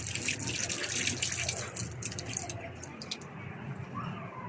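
Running water rinses a freshly picked date under a tap, a steady near gush and splash with a voice speaking over it.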